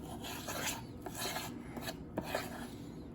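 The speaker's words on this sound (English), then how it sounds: "It's so quiet, you can hear a pin drop, except for the stirring." A spoon scrapes and rubs through thick banana nut bread batter in a bowl, a soft rasping stir repeated in short strokes, close and quiet in a hushed kitchen.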